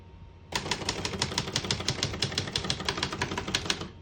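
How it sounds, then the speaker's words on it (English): Keys are struck on a 1961 Brother Valiant portable typewriter, giving a fast, even run of sharp, close clacks that starts after a brief quiet moment. "We're going to keep that on single for now and finish typing."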